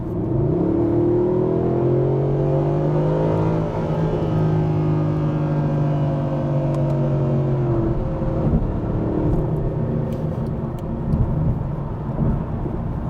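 Mercedes-Benz SLS AMG in Sport Plus mode accelerating hard, a loud, close engine roar with rising pitch through the gears, continuous and without speech.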